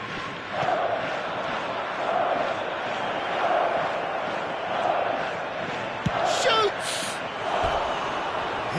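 A stadium crowd in an eFootball match surges in broad swelling waves of cheering and murmur, fairly distant and steady, with a commentator's voice over it.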